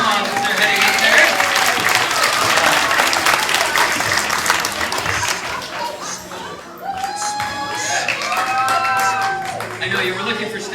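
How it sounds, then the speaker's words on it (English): Lively applause with some cheering greets two volunteers walking up to the stage at an entertainment show, dense clapping that eases off midway as a voice and some light music come in over the thinning crowd. "Give them both a big round of applause as they're heading up there."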